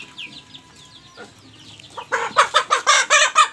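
Native chickens on a small farm cluck in a rapid, rhythmic series of loud calls close by, after quieter bird chirps and faint background sounds.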